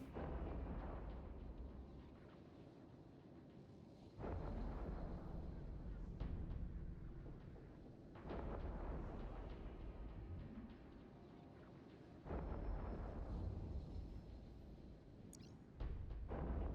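Heavy explosions in the space game Eve Echoes, four long booming blasts spaced a few seconds apart, each a deep roaring rumble that decays slowly.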